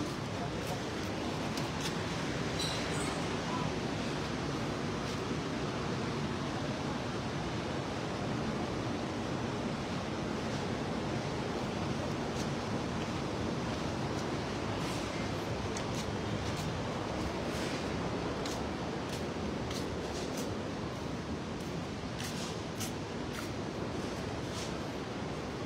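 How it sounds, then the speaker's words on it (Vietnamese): A flowing stream of murky water near Chùa Linh Ẩn in Nam Ban, Lâm Đồng, a constant broad rushing wash that stays steady throughout, with scattered brief clicks and handling noises on top. "Suối quá đẹp, nước bị đục."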